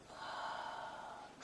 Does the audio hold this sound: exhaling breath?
yes